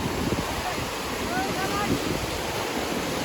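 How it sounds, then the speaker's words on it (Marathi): Loud sea waves on a Goa beach surge in a constant roaring wash of surf mixed with wind buffeting the microphone, filling the whole stretch with no pause. "लाटांचा आवाज खूपच आहे"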